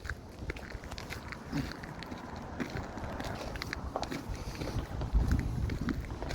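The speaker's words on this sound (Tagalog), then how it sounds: "Malakas na hangin." Strong wind gusts past the microphone on a cold day of about minus five, a steady low rumble with buffeting swells, and a few faint footstep-like taps mixed in.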